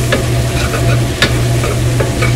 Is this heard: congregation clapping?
no